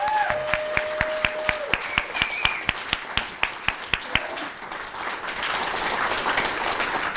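Audience applause at a community State of the Community event as a woman is welcomed onstage: a run of evenly spaced, distinct claps swells midway into dense, sustained crowd clapping that carries to the end.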